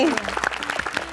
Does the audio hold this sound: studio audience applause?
yes